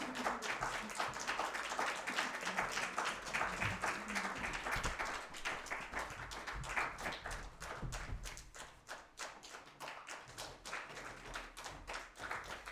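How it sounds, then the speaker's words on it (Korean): A church congregation at a Sunday worship service claps together, a dense, sustained patter of many hands filling the room, steady and moderately loud throughout. "박수를 쳐보겠습니다."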